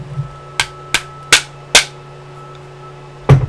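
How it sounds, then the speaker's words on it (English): A hammer taps a pin into a Ratel TMC stock in a series of sharp, close metallic knocks: four spaced strikes, a pause, then one final heavier blow. "Tap it in, it should be really tight."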